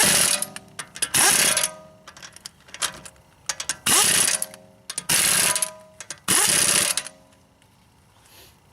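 A ratcheting wrench tightens brake caliper bolts on a BMW X3 E83, with repeated loud clicking bursts in steady strokes, close and mechanical, with no talking.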